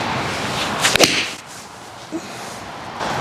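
A Ping G440 game-improvement iron strikes a golf ball with one sharp, loud crack, a brief swish around it, then an open outdoor hush.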